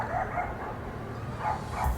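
A dog barks indoors nearby in a few short, yippy bow-wow bursts, a pair early on and another pair near the end.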